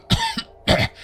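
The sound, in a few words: voice imitating a character coughing up blood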